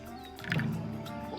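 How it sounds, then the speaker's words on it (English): A lion's roar in the Foretales video game swells into a short, rough growling burst over a soft, sustained musical background, all within about a second. "Leo's mighty roar drew a crowd of curious townsfolk."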